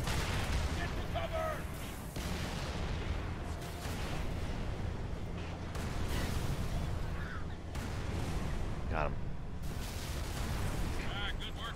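Wraith tank mortar fire in the video game Halo ODST, heavy booms and explosions rolling in among dense gunfire in a loud, continuous battle.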